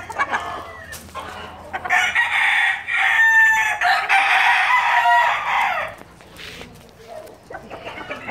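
A rooster crows loudly several times in long, strained calls, with short pauses and faint background noise between them.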